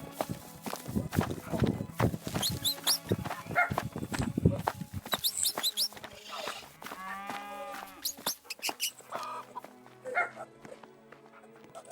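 Several cow moos in a vegetable-farming video game sound among footsteps, barking and clattering game noises, with a voice talking now and then.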